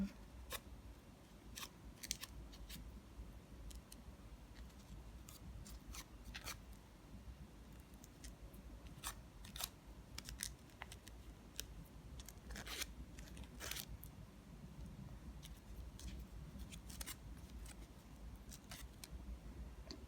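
Scissors snip ribbon for a handmade ribbon orchid, faint crisp cuts repeating irregularly over steady low background noise, close by and without talk.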